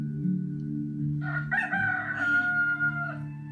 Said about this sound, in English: The cockerel was crowing